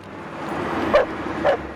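A seeing-eye dog gives two short, sharp yips about half a second apart, heard over a dense, noisy background.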